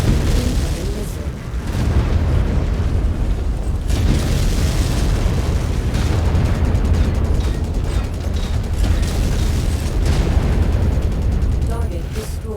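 Explosions and weapon impacts during mech combat in MechWarrior 5: Mercenaries, a loud, continuous rumbling barrage with heavy booms layered under a clipped radio-style voice.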